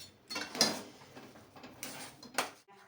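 A spoon clinks and scrapes through dabeli masala with pomegranate seeds and coriander in a metal pan, a few close, bright metallic taps and scrapes spaced irregularly with no talking.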